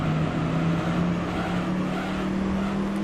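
A race car engine drones steadily in Gran Turismo 3: A-Spec, a constant high-revving hum holding one pitch throughout with no talk over it.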